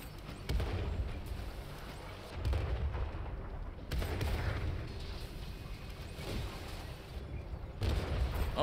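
Artillery fire in the World of Tanks video game on console: several distant booming blasts and rumbling impacts arrive in uneven bursts over a continuous low mechanical drone, with no talk.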